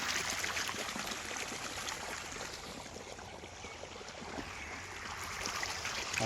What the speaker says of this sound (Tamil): பாருங்கள் தண்ணி ஓடிட்டு பார்த்தீங்களா?